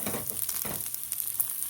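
Chopped sayote shoots sizzling in a hot pan as they start to brown, a close, steady crackle of frying with faint stirring scrapes.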